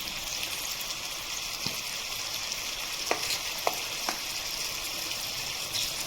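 Tomato and chopped chili fry in a pan with a constant soft sizzle, and a few sharp scraping clicks of a spoon stirring them come through at intervals.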